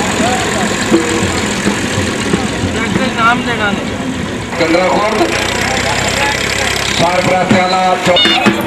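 A tractor engine runs steadily with a loud, rough chugging drone, close by, while people talk and call out over it.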